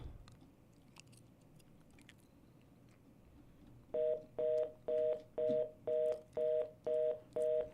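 After a quiet stretch with faint clicks, a telephone line on a call to a non-working number sounds eight evenly spaced identical beeps, loud and steady in rhythm.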